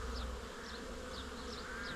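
Honey bees buzzing around an open beehive during an inspection, a dense, continuous close hum with individual bees swooping past, and no talk.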